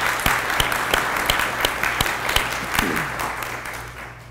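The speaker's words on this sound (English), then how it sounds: "Let's give them another round of applause." An awards ceremony audience applauds with a dense, steady wash of clapping and a few sharp individual claps, heard over a low electrical hum.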